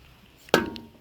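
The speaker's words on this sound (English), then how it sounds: "I'm gonna be hammering that out." A single sharp metallic hammer strike on a pin in the hydraulic cylinder of an antique Case 530CK tractor backhoe, ringing briefly and decaying, with quiet surroundings before and after.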